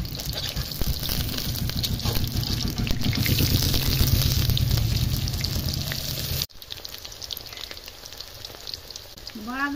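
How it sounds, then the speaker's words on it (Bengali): Pumpkin flower fritters frying in hot oil, with a steady close sizzle as they are stirred and turned. The sizzle is loud at first and then eases to a quieter bubbling. "এবার আমি তেলে দিচ্ছি, দেখো নাড়ি চাড়ি দিচ্ছি উল্টাইয়া"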